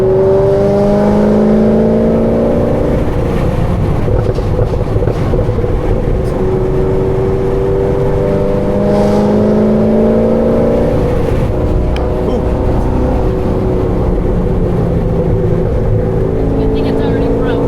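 A cammed Corvette C6 Z06 with an LS7 V8 driving on back roads, loud throaty exhaust rising and falling through repeated revs and shifts, close and continuous.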